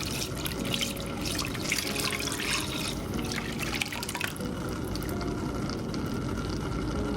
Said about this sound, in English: we're going to run it through a strainer with a layer of cheesecloth over it to get out the larger particles